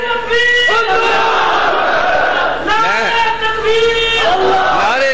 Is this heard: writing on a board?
no